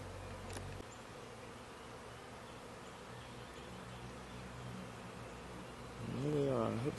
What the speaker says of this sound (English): Oh, they're everywhere. Yeah. It's quite filled up the air, but they're kind of settling down on this branch right up in here.